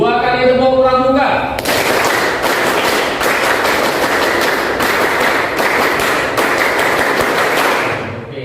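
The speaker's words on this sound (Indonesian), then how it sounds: "Oke, 2 kali tepuk pramuka" Students perform the Indonesian scout clap (tepuk pramuka) twice, a dense burst of many hands clapping together in quick rhythmic patterns that runs steadily for several seconds after a brief voice at the start.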